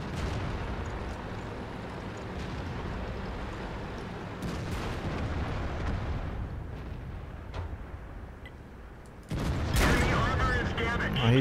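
Tank cannon fire in a World of Tanks battle: a loud, sharp blast near the end breaks over continuous engine rumble and scattered distant shots.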